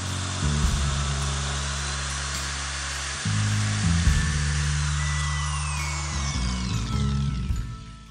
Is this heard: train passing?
no